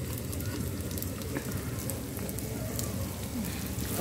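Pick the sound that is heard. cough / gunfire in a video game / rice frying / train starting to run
rice frying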